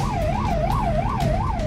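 An ambulance siren sounds from behind a truck on the road from Jhansi to Shivpuri, a steady rising and falling wail that repeats about every third of a second, loud and continuous.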